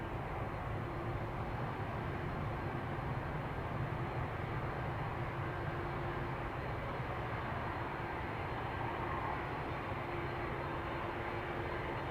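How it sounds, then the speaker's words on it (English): A High Fly Malta airliner departs Amsterdam Schiphol for Paris, its engines a steady, broad roar that holds at an even level throughout, with no voices over it. "Here's our next interesting specimen. High Fly Malta going to Paris"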